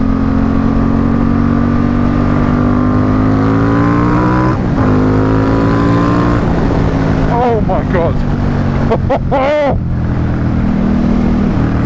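Ducati X Diavel S motorcycle accelerating hard in sports mode, a loud, close engine roar climbing through the revs with quick gear changes and blips, while a rider briefly exclaims over it.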